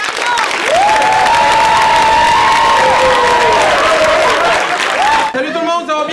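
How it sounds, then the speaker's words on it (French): Loud applause and cheering from a crowd at a cultural evening show in Paspébiac, sustained for several seconds, with a voice speaking in French over the clapping and a brief lull near the end. "je vous invite à les applaudir bien fort"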